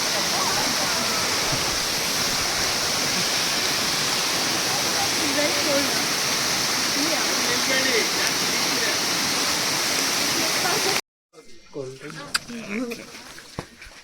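Waterfall on the Nethravathi trek, about 700 metres from a homestay, a loud steady broadband rush filling most of the clip before cutting off abruptly near the end, where a voice speaks briefly.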